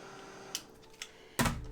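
Heat tool drying freshly stamped ink on a craft card, a steady close whoosh of blowing air that starts abruptly after two faint taps and runs to the end.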